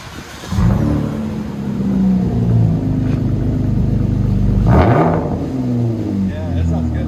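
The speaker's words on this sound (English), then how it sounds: "Those bullets sound so good on these. Ram 1500 V6." Ram 1500 pickup with a V6 engine and bullet resonator exhaust, revving loudly up close in a deep steady rumble with a sharp rise in pitch midway, under occasional voices.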